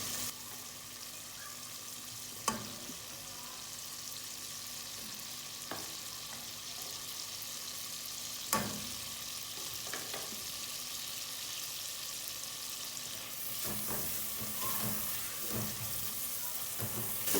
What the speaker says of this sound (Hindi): थोड़ा सा इनको भून लेंगे।